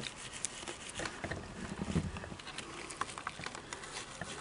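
Small brushes dipped in cleaner scrub the tight areas of a sewing machine's parts, giving a close, quiet, continuous bristly pattering and rubbing with faint scratchy flicks throughout.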